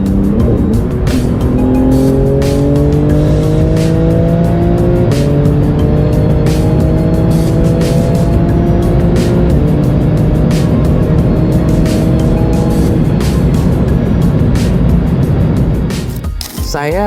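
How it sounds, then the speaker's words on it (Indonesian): A Porsche GT2 RS drift car roars continuously at high revs, its engine pitch repeatedly climbing and stepping down through gear changes, loud and close for about sixteen seconds, with a voice talking over it. "Punya Porsche GT2 RS."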